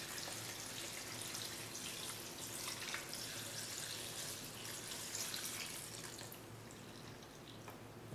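Water poured over sliced radishes and pears in a container for dongchimi kimchi, a steady soft splashing trickle close by that eases off toward the end.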